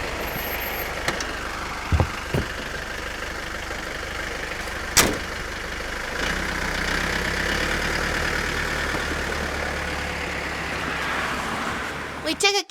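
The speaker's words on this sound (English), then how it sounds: "We took a cab to Hollywood." A taxi cab's engine runs steadily during a ride, a continuous mid-pitched hum with a few sharp knocks and thumps at the start before settling into an even drone.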